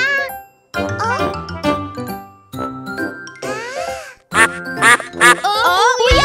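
A children's song about three little ducklings, where voices imitate duck quacks in bright, bouncy bursts over a jingly, chiming melody, loud and close with short pauses between phrases.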